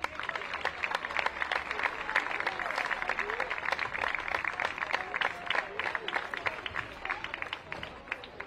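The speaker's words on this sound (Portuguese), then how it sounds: "o Clube de Futebol Benfica, uma salva de palmas." Audience applause for a women's football club during a prize ceremony at a women's football tournament final, steady dense clapping from a crowd lasting several seconds with some voices mixed in.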